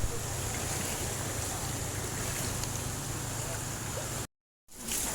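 Heavy rain pouring down as a dense, loud, constant wash of noise with a low rumble beneath, ending in a sudden short dropout before the downpour resumes.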